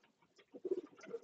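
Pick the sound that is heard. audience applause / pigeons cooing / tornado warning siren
pigeons cooing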